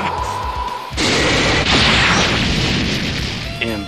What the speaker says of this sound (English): Special beam cannon! Take this!